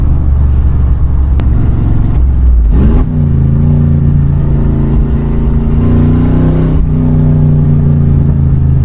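A 1966 Ford Mustang vintage race car engine, loud and close, rumbling at idle and then blipped to a rev before settling into a deep, steady, throbbing burble throughout, with no talking.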